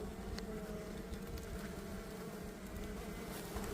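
Honeybees buzz around a water container at a hive in spring, a steady, dense hum of many insects filling the air without pause, moderately close, with no voices.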